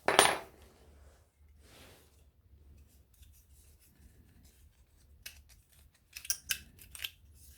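Heavy steel scrap is handled during scrap sorting: a sharp metallic clunk at the start, then a quiet stretch and a few light clinks and scrapes of metal near the end.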